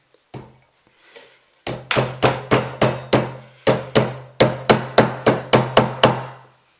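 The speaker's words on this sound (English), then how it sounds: "with my mallet I'm just going to give it another few taps" A mallet strikes an annealed silver ring on a ring mandrel: a few soft early taps, then a brisk series of about fifteen sharp, ringing metallic knocks in quick groups, close and clear with no talk.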